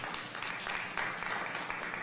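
Applause fills a council meeting chamber in Santa Rosa, a steady, dense patter of many hands clapping together for a couple of seconds, with no voices on top.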